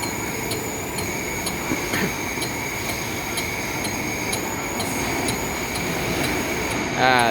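Continuous metallic grinding and a high steady whine from a lathe turning a small stainless steel propeller, with periodic clicking ticks throughout and a brief squeal at the end.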